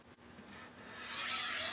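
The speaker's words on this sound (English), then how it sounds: "So this is the 300 Ultrasharp. I'm just resetting the edge" Knife edge rasping across a 300 Ultrasharp diamond sharpening plate, a faint close scraping stroke that builds into a steadier grinding hiss, no voices.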